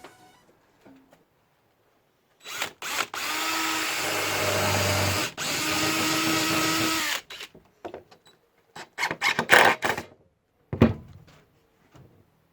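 A power drill runs in two long, loud sustained bursts while a wooden dining table is built, followed by a flurry of short clicks and knocks from handling tools and wood.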